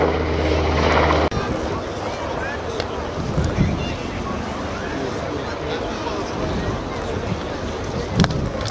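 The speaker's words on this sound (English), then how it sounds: "the German Army NH-19 Tactical Transport Helicopter" A German Army NH-90 tactical transport helicopter thunders during an airshow display at RIAT 2023, a loud continuous rotor and engine roar close by, with a commentator talking over it throughout.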